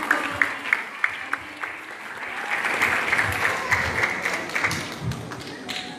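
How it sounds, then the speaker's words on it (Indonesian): Audience applause for an orphanage children's drama performance, a dense steady patter of many hands clapping with a few sharper claps standing out, building slightly louder partway through, with faint talk underneath. "Beri tepuk tangan yang meriah buat penampilan teman-teman."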